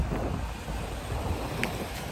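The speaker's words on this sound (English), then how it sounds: "It would be windy regardless." Wind gusts buffet the microphone outdoors on a street in St. George's, Grenada, a loud, steady rumbling roar that fills the short clip without talk.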